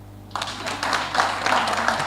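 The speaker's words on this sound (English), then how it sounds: "At least you can clap for me." An audience at a fintech hackathon session claps after a talk, a sudden burst of scattered applause that begins abruptly and continues moderately loud and uneven to the end.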